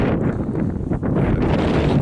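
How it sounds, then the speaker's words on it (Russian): Strong wind beside the Pechora River buffets the microphone in a steady, loud low roar with gusty fluctuations throughout. "ветер сильный, все уносит"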